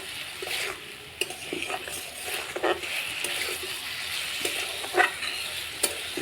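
Salt being stirred into potato and tomato frying in a pan, with a steady close sizzle under scraping strokes of a spoon and occasional sharper clinks against the pan.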